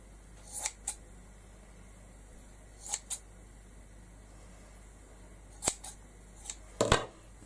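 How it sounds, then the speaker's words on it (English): Scissors snip through cheesecloth in short crisp bursts, a pair of quick cuts near the start, another pair around the middle, then a cluster of snips toward the end, close up against a quiet room hiss. "And a pair of scissors,"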